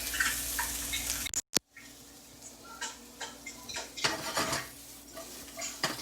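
Onions cooking gently in a pan, a soft steady sizzle with scraping and stirring clinks of a utensil against the pan, interrupted by a brief gap near the start.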